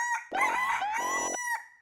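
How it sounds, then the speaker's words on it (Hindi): A hen calls loudly and close by, a drawn-out crowing cluck lasting about a second with a short trailing note after it. "मुर्गी"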